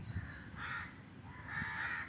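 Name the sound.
crow cawing, kept away from fruit tree by net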